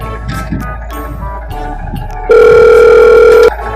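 A landline telephone dial tone sounds as one loud, steady, unbroken hum for over a second, cutting in sharply after a stretch of muffled background noise and stopping abruptly, in an Awadhi comedy sketch.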